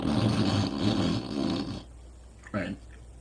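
A person's voice imitates snoring, a loud rough nasal rumble lasting almost two seconds, then silence and a short breathy snort-like burst.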